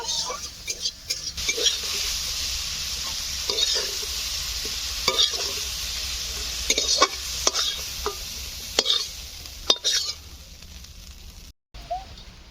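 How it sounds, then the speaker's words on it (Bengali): Prawns sizzle in oil in a kadai while a spatula scrapes and stirs, giving a steady frying hiss punctuated by sharp, irregular clicks and knocks close at hand. "চিংড়ি ভাজা হয়ে গিয়েছে আমি এবার তুলে নেবো"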